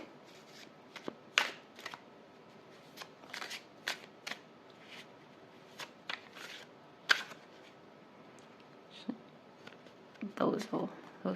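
Tarot cards are shuffled and picked by hand in a string of soft riffling and slapping bursts at close range, with pauses between them and a louder flurry near the end.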